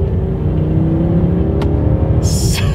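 A 2022 Mercedes-Benz S-Class accelerates from a rolling start, heard from inside the cabin as a low, muted road and engine rumble, with a faint brief click and a high chime near the end.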